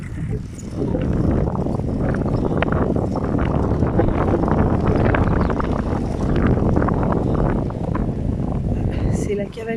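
Steady wind in Denmark buffeting the microphone in a roaring rush, with a voice talking over it throughout.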